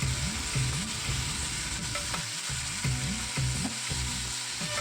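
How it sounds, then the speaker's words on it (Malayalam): Cooked plantain being stirred in a hot pan for a Kerala dish, with a steady frying sizzle and repeated scraping stir strokes running throughout at close range. "കായ ഇട്ടിട്ട് നന്നായിട്ട് മിക്സ് ചെയ്ത് കൊടുക്കാം."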